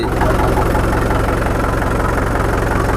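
A Mahindra Bhumiputra tractor engine idles loud and close, a steady low throbbing chug with an even rapid pulse that holds unbroken throughout.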